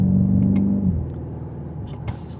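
A deep engine rumble from a 2026 BMW X5 M Competition SUV hums steadily inside the cabin, easing off as it cruises, with faint road noise.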